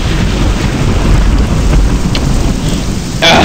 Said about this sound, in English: No, it looks like there's still thunder.